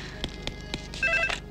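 A telephone rings in a Hindi-dubbed film scene, a brief electronic ring with tonal bursts near the end over a faint background, no one speaking.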